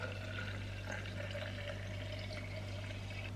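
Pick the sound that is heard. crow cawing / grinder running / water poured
water poured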